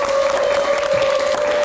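Studio audience applauding loudly to welcome a guest musician onto a live Indonesian late-night talk show stage, a dense steady roar of clapping with a sustained tone running underneath.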